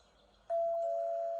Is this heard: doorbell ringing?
yes